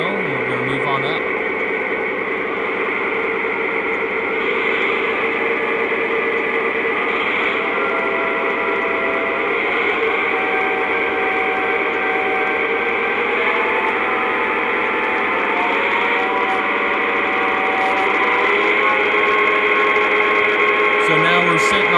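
Lionel C&NW F-7 model diesel locomotive's electronic engine sound, moving from a steady idle rumble to higher RPM levels with a rising, layered motor drone, while someone talks over it throughout.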